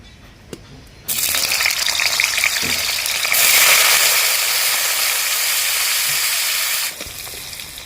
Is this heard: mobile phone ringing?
no